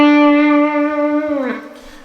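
A single sustained note on slide guitar rings loud and clear, then the slide bends it downward before it fades out, with no talking.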